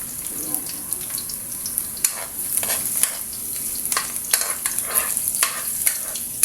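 Garlic frying in hot cooking oil for lumpiang ubod, with a close, steady sizzle broken by sharp crackles and a few stirring scrapes, no talking.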